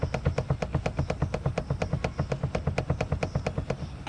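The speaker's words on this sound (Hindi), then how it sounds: "क्योंकि ये सीट अनोइंग सी आवाज़ करती है जो कि इसके इस वाले लैच से आती है" A rear seat latch in a Mahindra Scorpio N rattles as the SUV rolls over a rough, uneven road, giving a rapid, regular train of sharp clicks and knocks over a low road rumble, close and with no talk.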